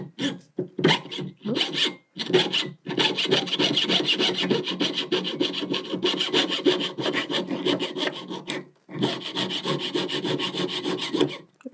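Hand filing and trimming of a small metal hinge on a domed locket, a series of short rasping strokes in quick bursts, then a long continuous run of scraping with brief pauses, close and clear, no talk.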